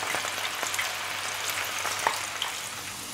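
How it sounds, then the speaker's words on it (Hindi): Chana dal frying in hot oil for crispy namkeen, a steady dense sizzle with fine bubbling crackle running continuously at close range, a few brief pops standing out, no voices. "और अब जब तक ये बबल्स है ना वो बैठ ना जाए ना, तब तक हम इसे ऐसे ही फ्राई होने देंगे"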